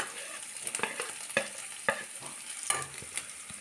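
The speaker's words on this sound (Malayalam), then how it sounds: "പിന്നീട് ഒരു വലിയ സവാള ചെറുതായിട്ട് അരിഞ്ഞതും കൂടി കൂട്ടത്തിൽ ചേർത്ത് കൊടുക്കാം." Chopped onion, ginger, garlic and green chilies fry in a pan with a continuous fine sizzle, punctuated by several crisp spatula taps and scrapes at irregular intervals.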